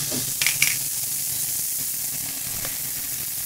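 Turkey strips sear briefly in a hot pan, giving a steady, close sizzle with a few sharper spits and crackles near the start.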